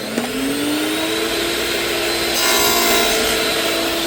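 A table saw cutting a dado through white oak for a kitchen remodel: a steady, loud whining buzz with a rising tone at the start and a slightly heavier grind partway through, no talk.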